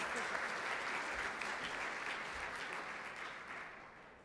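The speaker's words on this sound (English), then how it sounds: "Please give a round of applause to Mr. Getty Vasquez." Dense, steady audience applause fills a hall for a speaker at a Hispanic community event, a continuous roar of many hands clapping that slowly tapers toward the end.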